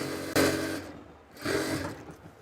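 Palazzo pants seams are sewn on a sewing machine in two short bursts of stitching, each about half a second long, with a brief quieter pause between them.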